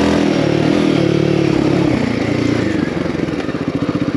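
Royal Enfield Himalayan 450 Rally motorcycle engine running on a trail ride, a loud, close, steady drone with rough clattering texture that turns into a throbbing pulse toward the end, with no talk over it.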